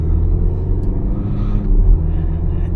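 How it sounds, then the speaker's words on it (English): VW Golf 7 R-Line 1.4 TSI with a seven-speed dry dual-clutch DSG gearbox cruising fast at night, a steady loud low engine and road rumble heard from inside the cabin with no talking. "that's the fastest I've gone in this car"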